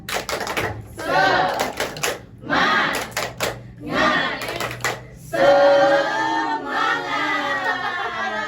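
Classroom students perform the rhythmic 'tepuk semangat' clap-and-chant together, a loud burst of unison voices and clapping that follows a few short stretches of a teacher talking.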